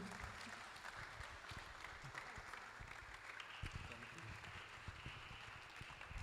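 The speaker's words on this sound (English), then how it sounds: "please, with a resounding round of applause, please make welcome Pastor Dr. Emmanuel Eyigbe" Applause from an audience welcoming a pastor on stage at a students' entrepreneurship summit, a steady wash of clapping with crowd noise and voices underneath, sustained throughout at moderate distance.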